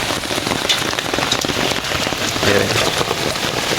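Heavy rain falls beside an aus paddy field near a house, a dense, steady hiss of drops hitting surfaces nearby, continuous and fairly loud with no pauses.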